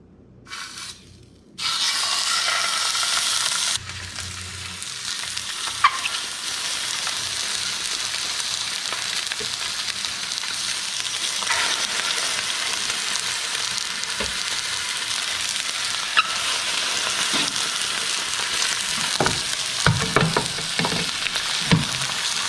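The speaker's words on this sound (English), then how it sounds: "I'm going to start adding the meat to the olive oil because the olive oil is hot" Meat searing in hot olive oil in a pan: a sudden loud, steady sizzle starts as the meat goes in and continues close and unbroken, with occasional small pops and utensil touches and no talk.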